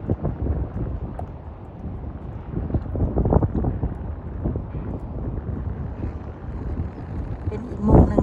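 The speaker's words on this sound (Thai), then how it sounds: "ลมแรงมากเลยนะคะพี่น้องขอโทษหลายๆด้วยจ้ะ" Strong wind buffets the microphone in a Thai village, producing loud, continuous low rumbling and gusty blasts, with a sharp surge near the end.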